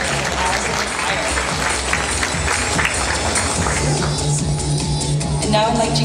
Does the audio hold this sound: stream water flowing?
no